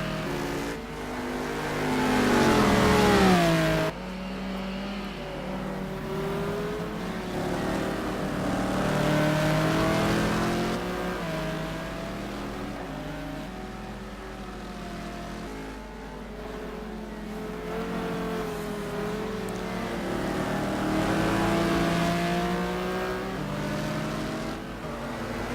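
Race cars in the simGT racing simulator game at Phakisa, a Mercedes-Benz among them, with engines revving and shifting through gears, rising and falling pitches as the cars pass, at moderate loudness.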